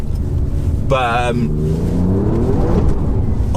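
Alfa Romeo Quadrifoglio in race mode on a wet driveway, engine rumbling steadily with a brief revving flare as the tyres spin, heard close and loud beneath someone talking.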